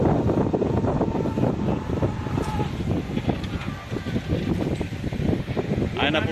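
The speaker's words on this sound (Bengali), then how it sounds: "হাওয়া বইছে।" Wind gusts across the microphone on a rural road as rain approaches, a rough, rumbling buffeting that stays loud throughout, with a voice talking over it.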